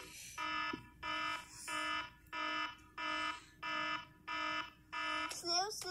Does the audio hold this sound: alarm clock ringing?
yes